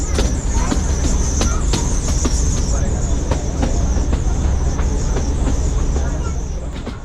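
A 110-year-old heritage train runs through village countryside between Bilimora and Waghai, producing a steady loud rumble with repeated rhythmic clicks from the wheels and a continuous high squeal, close and sustained throughout.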